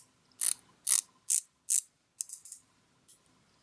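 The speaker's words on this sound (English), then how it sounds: "I'm going to show the bezel action on this one" The rotating bezel of a genuine Omega Seamaster watch clicks crisply as it is turned, several distinct close ratcheting clicks in an uneven rhythm with quiet gaps between them.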